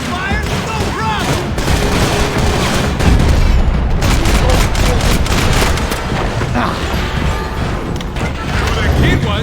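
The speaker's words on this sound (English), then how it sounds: "Cover me! Suppression fire!" Heavy video-game gunfire in Max Payne 3: a loud, continuous fusillade of shots and booming impacts mixed with shouted voices, dense and unbroken throughout.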